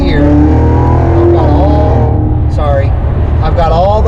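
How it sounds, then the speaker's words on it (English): A car engine holding a low, steady droning rumble after a paddle downshift from 8th to 3rd gear, loud and close from inside the cabin, with someone talking over it throughout. "you hold this left paddle in, and it threw me in 3rd gear"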